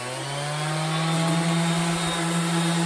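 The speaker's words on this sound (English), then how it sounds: "A random orbit sander to get out some of the rough spots" Random orbit sander working over a wooden rocking chair, a steady close electric whir with a faint rough rubbing texture, slightly swelling in loudness across its few seconds.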